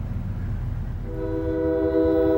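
A train rolls along tracks laid down the middle of a town's 2nd Street, with a low steady rumble that swells as a loud sustained horn sounds nearby.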